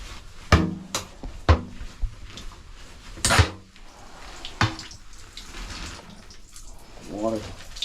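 Water splashes and gurgles in irregular bursts as it drains from the broken supply and suction lines of a leaking underground heating oil tank, with sharp knocks in between and someone talking.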